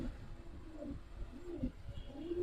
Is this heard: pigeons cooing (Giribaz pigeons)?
yes